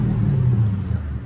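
Mercedes SL500 R230 V8 with mufflers removed, running close by with a deep, steady rumbling drone and a slight rev, no talk.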